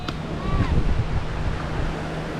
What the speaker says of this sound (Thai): ตรงนี้เป็น ทะเล